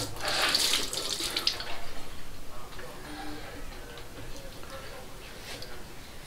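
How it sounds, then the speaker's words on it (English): Cold water running from a bathroom tap into a sink, a strong splashing rush at first that quickly fades to a softer trickle, with someone speaking over it. "let's get some cold water here"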